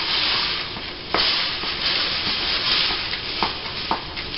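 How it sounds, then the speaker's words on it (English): A utensil stirs a hash brown casserole halfway through baking at 425 degrees, giving a continuous wet hissing sizzle with a few soft scraping knocks, close and fairly loud, with no talk. "at the 30-minute mark, which it is now, you stir it."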